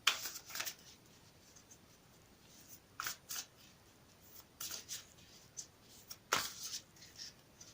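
Several short bursts of oracle cards being riffled and shuffled, quiet and close, with pauses between them and no talking.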